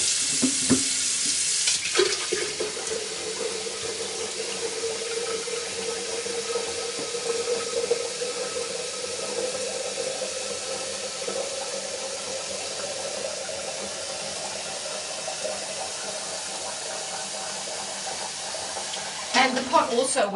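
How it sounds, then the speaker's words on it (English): A big pot being filled with water for making Wensleydale cheese from raw sheep's milk, a steady hissing gush of running water that fills most of the clip, with a brief clatter at the start and end. "This is the big pot I have on. I'm just going to fill that up with water"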